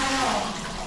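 Shower water running hard in a home bathroom, a steady loud broadband spray and splash filling the short moment, with a faint voice barely present.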